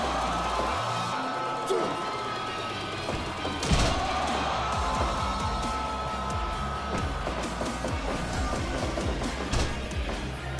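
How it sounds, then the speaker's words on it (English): A crowd cheers in the Commodore 64 wrestling game Super Pro Wrestle. A continuous noisy roar carries scattered thuds and impacts from the match. "Crowd here definitely making their feelings known on who the favourite in the match is."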